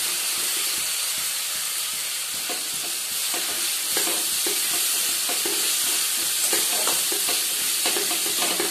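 Onions sizzle steadily in hot oil with fried garlic and spices, a dense continuous hiss with soft scraping stirs, close and loud with no talk.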